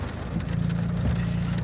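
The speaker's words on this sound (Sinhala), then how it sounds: "ඈ ලියා වහින නිසා අපි ආය යනවා නේද?" Rain falling during a family trip, a steady dense patter on surfaces with a low rumbling hum beneath it, continuous and close.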